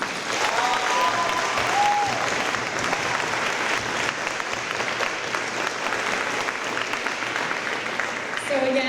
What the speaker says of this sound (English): Round of applause for parents.